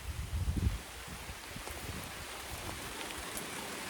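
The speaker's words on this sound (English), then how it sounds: "Yep, we got rain." Rain falling outdoors beside a grassy alfalfa field, a steady broadband hiss of drops with a few louder low thumps near the start, then an even patter with no voices.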